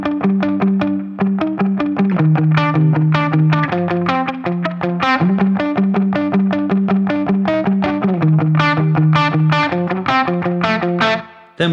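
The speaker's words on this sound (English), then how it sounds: "I'm pretty sure it uses a tiny bit of distortion. You could just put a tube screamer on like so." Electric guitar riff played with a light tube screamer overdrive: a steady chugging rhythm of repeated picked notes, loud and continuous, with no talking.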